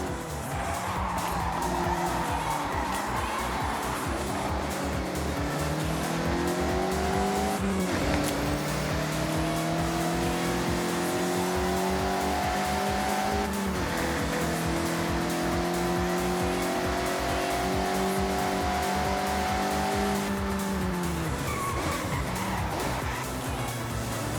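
A Mazda MX-5 drifting sideways through corners in Forza Horizon: a high revving engine rises and falls across several slides, with tires squealing and skidding, loud and close throughout.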